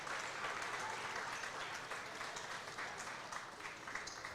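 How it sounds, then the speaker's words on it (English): A basketball crowd at a Wittenberg men's game against Hiram applauds an injured player, a steady, moderate patter of clapping through the whole stretch under faint arena chatter. "Gets a nice hand from the crowd here."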